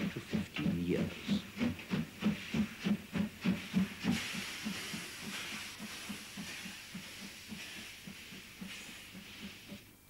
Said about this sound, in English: This classic two-cylinder locomotive was the most celebrated class of DR steam.